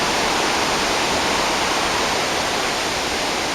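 A river and waterfall swollen by heavy rain at Villa Kalisat roar as a dense, constant rush of water, loud and close, with no voices.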